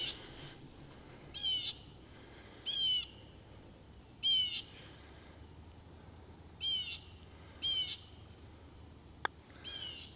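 A bird on a golf course gives repeated short, sharp calls, about six bursts spaced a second or two apart, standing out clearly over a quiet outdoor background.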